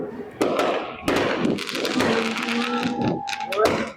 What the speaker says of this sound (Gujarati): ફટાકડા અમારા ઉડી રહ્યા છે